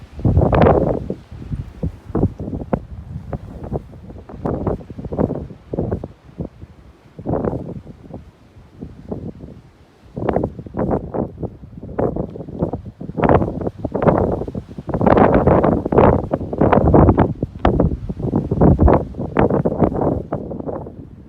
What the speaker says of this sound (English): It's just pretty windy.